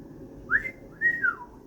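A few short, wavering whistled notes from a person, rising and falling in a halting two-part phrase, close and alone.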